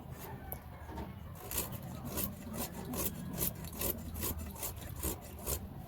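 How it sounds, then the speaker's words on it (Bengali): Carrots are cut for home cooking, producing a repeated rhythmic scraping, rasping stroke sound, close and steady throughout with no talk. "গাজর কাটছি, দেখতেই পেরেছে"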